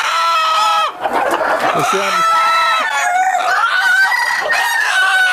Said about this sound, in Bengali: এইগুলো সাউন্ড হচ্ছে শুধু দেশি মুরগিতে হয়